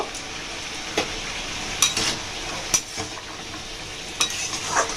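Green peas, capsicum and carrots frying in a wok, a constant close sizzle punctuated by several sharp scrapes and clinks of a spatula stirring against the pan.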